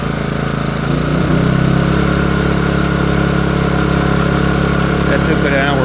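Westinghouse iGen2550 inverter generator idling in eco mode, a steady loud mid-pitched engine drone that shifts slightly in tone after about a second and then runs evenly, heard close with no voices.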